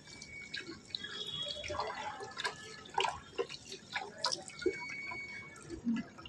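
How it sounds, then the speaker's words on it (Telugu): Mangoes being washed in water, giving soft intermittent drips and small splashes at close range, irregular and fairly quiet, with no talking. "ఫస్ట్ మ్యాంగోస్ బాగా వాష్ చేసుకొని"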